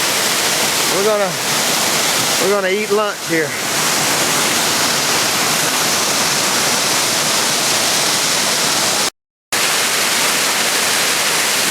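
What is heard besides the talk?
waterfall, water falling off rock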